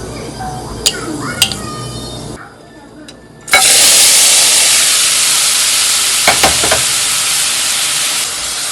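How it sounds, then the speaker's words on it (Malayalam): Chopped vegetables such as broccoli, mushrooms and carrot dropped into a hot pan with mustard seeds, setting off a loud, sustained sizzle and hiss after a few clinks and taps. "ഇനി നമുക്ക് ഇതിലോട്ട് നമ്മൾ ചോപ്പ് ചെയ്ത് വെച്ച വെജിറ്റബിൾസ് ആഡ് ചെയ്ത് കൊടുക്കാം."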